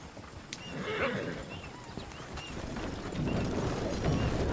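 A horse whinnies in Red Dead Redemption 2 with hoof clops and a rattling cart or harness in the background, the neigh rising about a second in against steady outdoor ambience.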